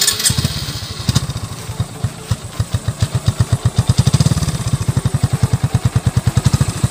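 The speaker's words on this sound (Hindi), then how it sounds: "आप एग्जॉस्ट सुन सकते हैं, काफ़ी बेसिक एग्जॉस्ट है।" A Hero Glamour 125cc motorcycle runs with a steady, close thumping exhaust note at idle, its pulses quickening slightly as it revs gently, with no talk over it.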